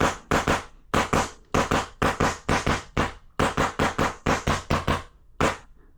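An airsoft gun fed from a shoulder-mounted air tank through a Heretic Labs tank grip fires in loud, close bursts of sharp cracking shots, grouped in quick strings of three to five with brief pauses between.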